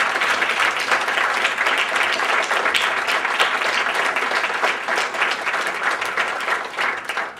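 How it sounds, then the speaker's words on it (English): Audience applause fills a student senate meeting, a steady, dense round of clapping that stays loud and even throughout without any talk over it. "so if we could all give Austin some round of applause."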